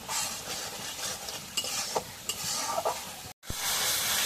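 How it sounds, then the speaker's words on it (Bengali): Spices fry and sizzle in a pan while a spoon stirs them. Several scraping strokes cut through a close, steady crackle, and the sound drops out for a moment before the sizzle returns. "এখন একটু নাড়া দিয়ে দিই মশলাগুলো"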